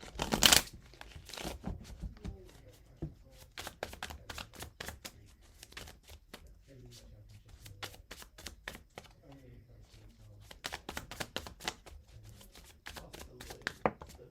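A deck of tarot cards riffled and shuffled in quick bursts of crisp, papery flicks, close by, with a few soft clacks and hand movements in between.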